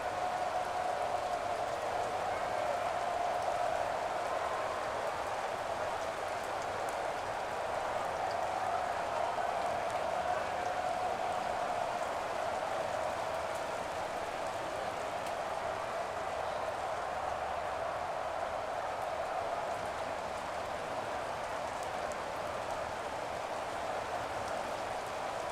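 Steady rain falls over an NFL stadium during a Buffalo Bills versus Cincinnati Bengals game, an even, unbroken hiss holding at the same level throughout with no talking.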